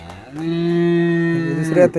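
A high-yielding dairy cow gives a single long, loud moo from close by, steady and drawn out before tailing off, with no talk over it.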